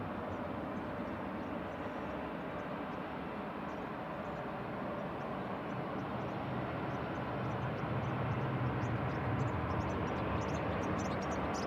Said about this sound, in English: Off to Frankfurt, DAISR, A321-200 Classic,